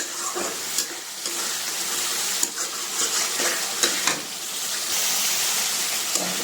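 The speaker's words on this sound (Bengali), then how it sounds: "মশলা দিয়ে নতুন আলুগুলো কষাচ্ছি" New potatoes sautéing with spices in a pan make a bright, hissing sizzle, broken by repeated scraping stirs and spatula knocks at an uneven pace, close and moderately loud, with no one speaking.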